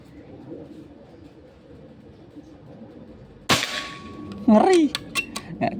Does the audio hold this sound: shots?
yes